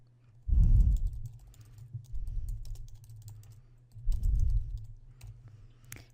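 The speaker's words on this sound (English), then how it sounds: "type Consolidated Balance Sheet and press Enter" Text typed on a computer keyboard, soft close key clicks arriving in bursts with short pauses between them, alone without speech over a low steady hum.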